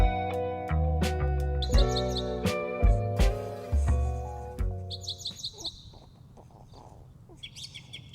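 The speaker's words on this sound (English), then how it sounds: "That's a pretty bird. Pretty bird sounds." Bright, high bird chirps repeat in quick bursts, coming in after a loud stretch of tonal, music-like sound and continuing alone at moderate volume.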